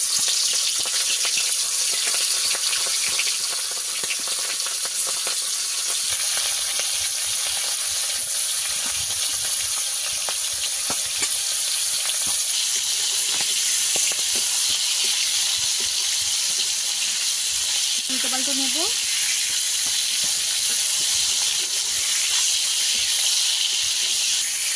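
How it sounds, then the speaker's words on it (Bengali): Prawns fry in hot oil in a wok, giving a loud, steady, continuous sizzle and hiss that carries on without pause for the whole stretch, with faint clinks underneath. "একে একে চিংড়ি মাছগুলো ভেজে নেব।"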